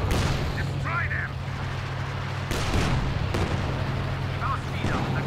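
Enemy gunfire and heavy booms crack out in Company of Heroes 2 beneath shouted voices, with a low engine rumble running steadily throughout.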